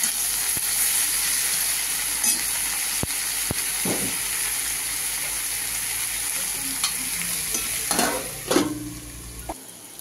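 Chopped snake gourd (chichinga) with turmeric and spices frying under a lid in a pan, giving a steady close hiss and sizzle with a few sharp stirring clicks and scrapes near the end.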